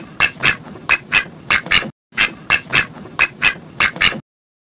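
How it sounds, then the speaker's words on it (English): Ducks quack in two rapid bursts of loud, nasal squawks, about five to six calls each, separated by a brief pause, close and clear with no talking. "Ducks."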